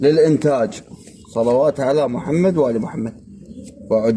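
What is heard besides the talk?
No everyday noise stands out behind the speech.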